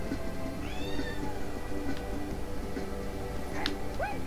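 A cat meows several times, its high wavering calls rising and falling over a steady indoor background hum.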